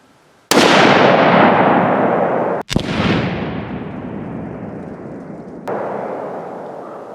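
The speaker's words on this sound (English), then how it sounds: "I want to get some shots off. Going hot." A HOWA Model 1500 rifle chambered in .308 Winchester fires two booming shots a couple of seconds apart on an outdoor range, each trailing a long rolling echo, with a fainter third report arriving later.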